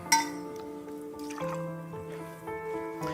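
Liquid pours and splashes into a glass with a gurgling, rising tone, accompanied by faint clinks, close up and quiet.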